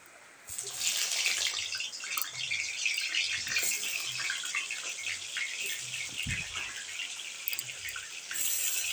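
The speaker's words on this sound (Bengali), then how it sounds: "তেলটা ভালোভাবে গরম হয়ে গেলে আমি একে একে পটলগুলো এর মধ্যে ছেড়ে দিচ্ছি।" Busy crackling sizzle of pointed gourd pieces dropped into hot mustard oil in a pan, a dense spitting hiss that starts abruptly and carries on steadily, with a soft clunk partway through.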